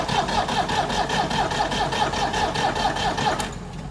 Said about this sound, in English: All right, so I hear slow crank, no smoke.